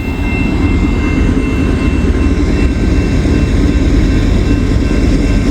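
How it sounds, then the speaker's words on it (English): A train rolls past a level crossing in Glendale as a steady, loud rumble with broadband rail noise, continuous from start to finish and close by, with no speech. "Anyways, here comes that train."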